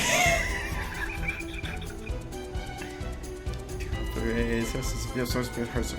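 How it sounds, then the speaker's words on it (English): Cartoon horses from a My Little Pony crossover whinny loudly at the start, with a second neigh later. Both sit among background music and talking voices. "Horses."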